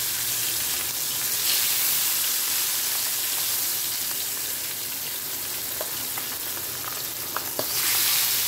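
Pabda fish frying in oil in a home kitchen pan, a dense continuous hiss and sizzle with a few faint clicks near the end, close and steady, with no talking.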